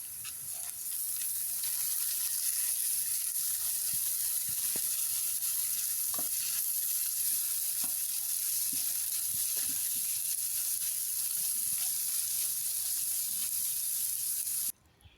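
Cooked lentils and rice fry with crushed garlic in a pan, giving a loud, continuous hissing sizzle that holds steady throughout, with a few faint stirring clicks beneath.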